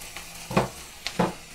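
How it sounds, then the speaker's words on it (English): Chopped onions sizzle and fry in a pan for a beef stew with walnuts, with a few soft scraping stirs over a quiet, steady crackle close by. "I will stir my onions because the noise tells me that they are happily cooking"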